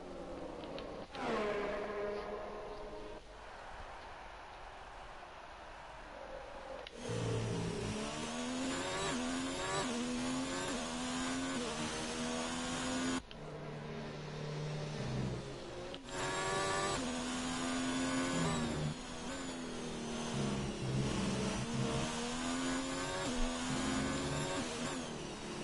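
Race cars in the GTR racing game surge off the line on the formation lap at the Austrian GP, with layered engines revving and climbing through gears in loud, sustained waves.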